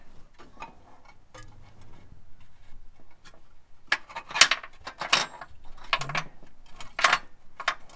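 A metal fish plate is shoved into a trailer hitch mounting hole on a 2014 Mazda 6 during a Curt 11356 hitch install, making a run of close, irregular metallic clicks, scrapes and rattles that grow louder partway through.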